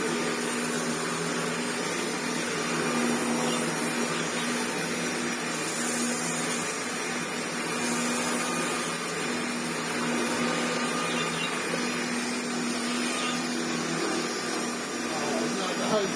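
A restored Hoover Turbopower 2 Autosense U2464 upright vacuum cleaner runs with a steady whirring motor drone and a constant hum, heard close and continuous for the whole stretch.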